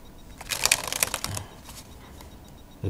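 A quick burst of crisp shuffling of a Hoyle deck of plastic-coated playing cards, a flurry of papery riffles for about a second, then quieter soft handling.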